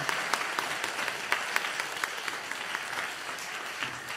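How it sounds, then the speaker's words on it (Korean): A church congregation claps together in a sustained, even round of applause, heard from a modest distance and steady for the whole stretch. "박수로 하겠습니다."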